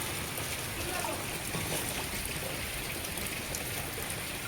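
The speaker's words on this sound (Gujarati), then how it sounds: "અત્યારે વરસાદ ચાલુ થઈ ગયો" Steady rain hisses across the whole clip, a dense, even wash of falling water with no clear gaps.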